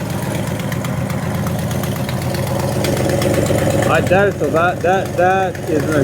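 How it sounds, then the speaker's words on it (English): A 1968 Ford XL Fastback engine idles loudly and roughly with a ticking knock, suspected exhaust manifold leak or rod knock, steady and close, while someone speaks briefly over it. "exhaust manifold leak. If it's not, it's got one heck of a rod knock."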